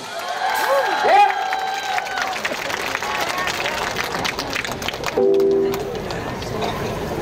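A concert audience claps and cheers to welcome a singer, a broad, continuous wash of applause that swells near the end. Voices and music blend into the crowd noise.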